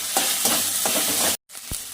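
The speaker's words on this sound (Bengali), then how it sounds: "ওই তেলের মধ্যেই ফোড়ন করে নিচ্ছি গোটা এলাচ, তেজপাতা, গোটা জিরে, আদা বাটা, কাঁচা লঙ্কা কুচি" Whole cardamom, bay leaf, cumin seeds, ginger paste and chopped green chillies sizzle loudly in hot oil for a vegetarian dal, with steady frying hiss and a few stirring scrapes, then a brief cut and a thump.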